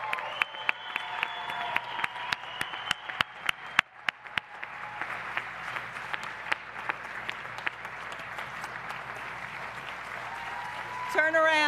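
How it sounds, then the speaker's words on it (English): Graduation convocation audience applauding, sparse individual claps at first that swell into steady, dense clapping filling a large hall, with a brief loud burst at the end. "So why don't we give them all a round of applause again?"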